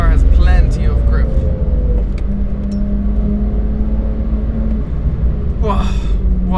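BMW 1M Coupe on 295 Pirelli tyres driven flat out on track, a loud steady engine drone with rising tones and road rumble throughout, someone talking over it.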